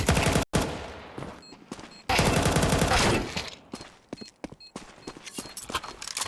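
Bursts of rapid SMG fire ring out during a pro Counter-Strike match, loud and close, with several dense sustained volleys, short gaps of quiet, and scattered shots and footstep-like clicks afterward.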